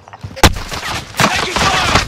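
Gunfire in Call of Duty: Modern Warfare, a loud sharp shot near the start and then dense, continuous bursts of shooting, with shouted voices mixed in.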